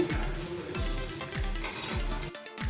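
Chopped onion frying with a pinch of salt in a pan, a steady bright sizzle with soft rhythmic scraping as it is stirred roughly every half second, close and moderately loud.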